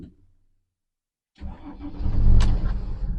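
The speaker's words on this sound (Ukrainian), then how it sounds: "Заводиться машина взагалі легенько." A Mercedes Sprinter van engine starting on a slope: silence, then a sudden crank and catch that settles into a loud, close, rumbling idle.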